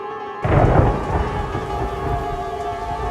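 A sudden crack of thunder rolls over steady heavy rain, then fades into a continuous rumble with the downpour.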